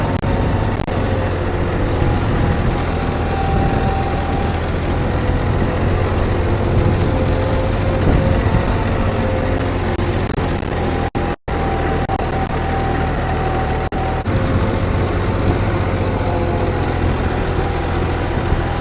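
A John Deere tractor with power-boosted tuning idles loudly and steadily nearby, a continuous low engine rumble that barely changes across the whole stretch apart from one brief dropout.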